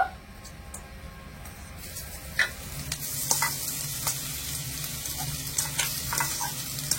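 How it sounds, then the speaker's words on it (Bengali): Mashed boiled potatoes are stirred and fried in a pan, a steady sizzle building after a quiet start, punctuated by sharp clicks and scrapes of the spatula against the pan. "ভালো করে মিশিয়ে একটু ভাজা ভাজা করে নেব।"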